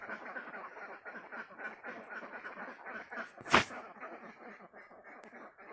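Many ducks quack continuously in a dense, overlapping chorus, with one brief louder burst partway through.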